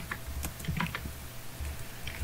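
Keys clatter on a computer keyboard as a Minecraft warp command is typed in a quick, uneven burst of close clicks, with no talking.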